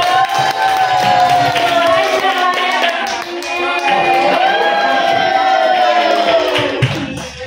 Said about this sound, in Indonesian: Tepuk tangan buat Bu Hajar.